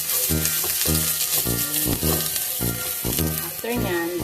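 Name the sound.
onion sautéing in a pan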